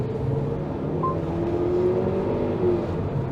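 A Haval H6 2.0 turbo in sports mode accelerates with a steady engine drone that rises in pitch, heard from inside the cabin, moderately loud with no speech.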